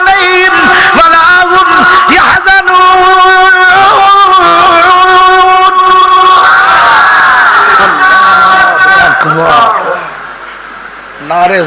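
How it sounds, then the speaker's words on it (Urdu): A crowd at a religious sermon gathering chants slogans in unison, loud, strongly voiced repeated calls and responses filling most of the stretch before fading out near the end. "نعرے ذرا نہ مارو، ٹائم تھوڑا"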